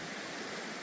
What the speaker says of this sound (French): Avec le bruit du ruisseau.